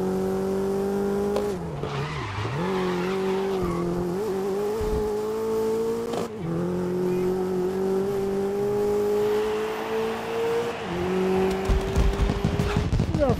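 Race cars roar through a race in the game GRID, with loud, continuous engine drone rising and falling in pitch, tire squeals and skids cutting in, close and without pause.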